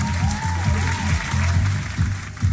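Dense, steady applause from a Miss Philippines Earth 2023 pageant audience fills the hall, with music or a low voice faintly underneath throughout.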